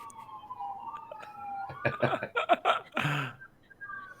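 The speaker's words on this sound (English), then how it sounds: "you hear that? You hear those sirens?" A wailing police siren rises in pitch, heard faintly over a quiet background. Short bursts of voices follow and cut across the wail.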